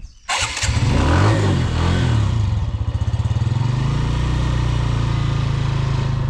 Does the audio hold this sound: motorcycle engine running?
yes